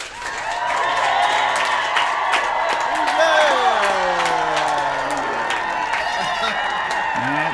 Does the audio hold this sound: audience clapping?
yes